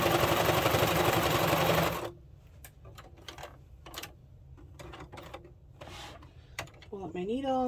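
A sewing machine stitches an overlapped seam on a top, running with a loud, fast, steady whir for about two seconds before stopping, followed by quiet clicks and fabric handling sounds.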